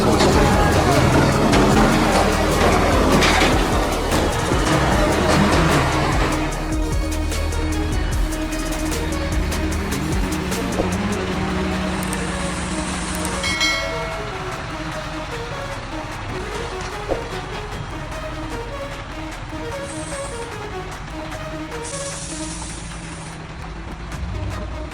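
Heavily loaded monster wood trucks climbing a rough, dangerous dirt road, their engines rumbling loudly and straining at first before easing to a lower, steadier drone, with a voice speaking at times over the noise.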